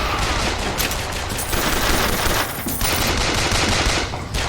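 Rapid gunfire erupts in a Bioshock Infinite battle, loud bursts of shots blending into a dense, continuous barrage throughout with no talk.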